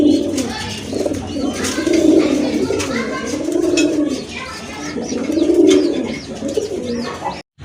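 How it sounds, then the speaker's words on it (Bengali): Big-sized pigeons coo in a repeated rolling rhythm, loud and close, with scattered chirps and faint rustling between the calls. "আর বিগ সাইজের কবুতর কিন্তু এগুলা।"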